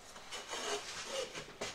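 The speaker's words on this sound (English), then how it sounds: "So when you first start planing, you're just going to be taking the tops of those off." A hand plane shaves across a wide pine board in quiet, close rasping strokes, each pass a soft swelling scrape with short gaps between.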